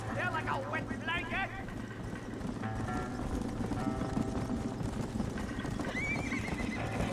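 In the Red Dead Redemption video game, a horse's hooves clip-clop at a gallop while it neighs and whinnies repeatedly, with voices talking throughout.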